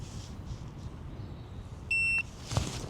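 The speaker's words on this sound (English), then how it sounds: "So just power everything off until it beeps" A single short, high electronic beep from a fishing bait boat powering off sounds up close, lasting about a quarter second against faint background noise, followed by a soft knock.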